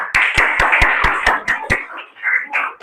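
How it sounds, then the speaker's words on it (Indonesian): Slow, sharp hand claps in a school classroom, about seven evenly spaced claps close to the listener, then fading into softer murmuring and voices. "Beri tepuk tangan ya"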